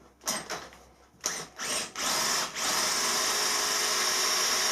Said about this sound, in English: Once it gets hot, the drill gets hot, the stainless work hardens